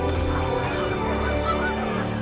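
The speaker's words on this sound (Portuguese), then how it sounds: "os gansos voltaram." Geese honk repeatedly in a lively flock, overlapping calls close and loud for a couple of seconds over a soft background.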